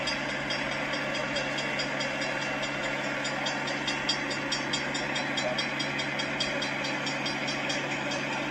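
Train passing near a crash site involving a collision with a truck trailer, a loud continuous rumble and clatter of railcars rolling by with a sustained horn-like tone layered on top.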